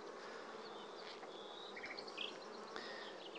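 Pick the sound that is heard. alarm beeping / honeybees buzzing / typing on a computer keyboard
honeybees buzzing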